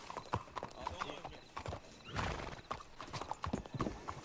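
Horse hooves clip-clop in a steady, uneven rhythm at close range, with a brief whinny and people talking over them.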